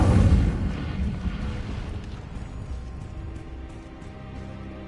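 An Incendio fire spell in a video game erupts with a heavy booming burst that roars and then slowly fades away over several seconds.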